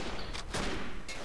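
Rapid gunfire in the Verdun Battlefield-style World War I video game, a dense burst of several close shots aimed at a machine gunner, sounding over noisy battle ambience.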